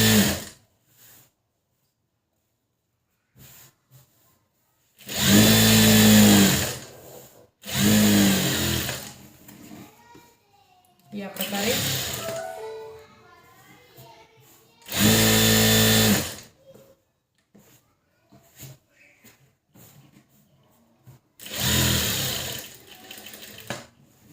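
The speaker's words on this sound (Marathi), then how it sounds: "मशीन तुमची त्याच अंतरावर चालली पाहिजे जशी तुम्ही सुरुवात केली तशी शेवटपर्यंत" Sewing machine stitching blouse lining in several loud bursts of rapid mechanical whirring separated by quiet pauses and softer handling noises, close by with no talk.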